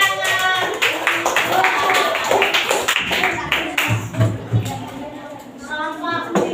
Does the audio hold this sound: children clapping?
yes